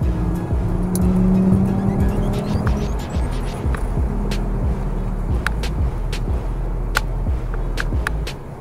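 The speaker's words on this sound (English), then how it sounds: "full four-wheel slide with a little bit of tail kick action here" Honda S2000 drifting in a full four-wheel slide through a canyon road corner, engine droning steadily with a high tire squeal rising across the turn, close and loud with no talk.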